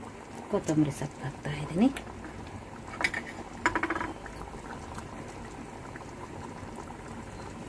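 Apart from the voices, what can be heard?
aloo sagu potato curry boiling in the pot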